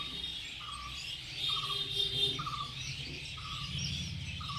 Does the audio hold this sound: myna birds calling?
yes